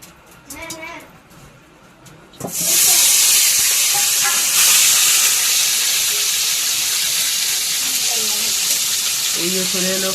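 Sliced bitter gourd dropped into hot oil bursts into a loud, steady sizzling hiss that starts abruptly and carries on close by, with people talking briefly before it and again near the end.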